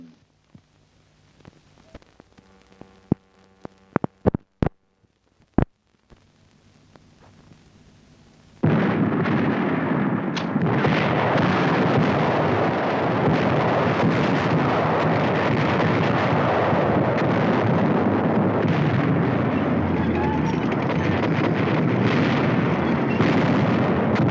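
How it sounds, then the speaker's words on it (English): Aerial bombing in 1944 wartime footage: a few sharp isolated blasts, then a sudden continuous roaring barrage of explosions that stays loud and dense for the rest of the clip. "General Arnold has characterized this attack as the greatest example of precision bombing on record"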